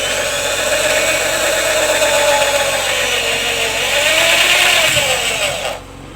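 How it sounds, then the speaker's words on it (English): A power drill boring into an old car tyre for a homemade seat, a loud, steady whine that holds for several seconds, dips in pitch as it bites, then cuts off abruptly near the end. "Then drill."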